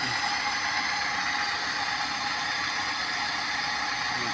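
A warmed-up engine idles steadily and continuously after its carburetor has been replaced, running as a close, even drone with no pauses or voices.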